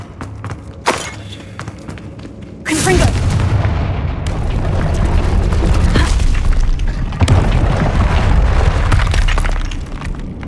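A Confringo spell blast in Hogwarts Legacy: a sudden heavy boom erupts, then a long loud rumbling roar of fire and debris with further crashing thuds, close and dense throughout.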